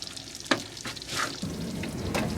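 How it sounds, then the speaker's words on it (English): Naan bread fries in butter in a Ridge Monkey pan, giving a steady close sizzle with small crackling pops throughout. "First naan bread going in."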